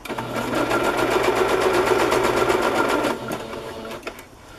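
Sewing machine stitching around the edge of a coffee-dyed vellum paper tag, a loud steady rapid whirr of needle strokes for about three seconds that then slows and stops, with no talk.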